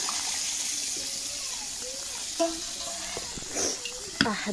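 Hot water is poured into a mutton curry cooking on the stove, giving a soft sizzle and splash with a few sharp clatters near the end as someone speaks over it.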